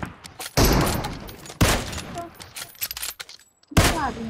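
PUBG Mobile gunfire cracks out in several loud, close bursts separated by quieter gaps, the final shot arriving near the end.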